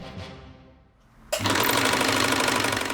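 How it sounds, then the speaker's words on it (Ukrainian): An old sewing machine starts up after near-silence and then runs loudly and steadily with a fast, even mechanical clatter close to the listener. "Ця швейна машинка вже майже музейний експонат"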